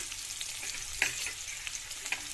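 Onions and green peas tumble into a hot frying pan and begin to sizzle, a steady soft crackle with a few sharper pops and stirring clatters, close by and without talk.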